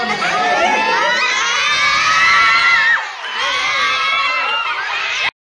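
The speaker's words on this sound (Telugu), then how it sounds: "పిల్లలు పెట్టిన కేకలకైతే భయం వేసి బయటకు వచ్చాను" A crowd of children shout and cheer together outside a temple in Srikakulam, a loud, continuous mass of overlapping high voices with a brief dip partway before the din resumes and cuts off.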